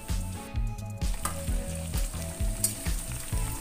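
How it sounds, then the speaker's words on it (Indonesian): Tempeh deep frying in oil until dry makes a constant close sizzle with small pops, and a low pulsing hum repeats beneath it. "Di sini digoreng sampai kering ya"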